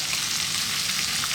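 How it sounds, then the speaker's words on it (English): Sliced onions dropped into hot oil with pandan and curry leaves over above-medium heat, giving a steady close, bright sizzle with no talk. "to this we're going to add our onions sliced."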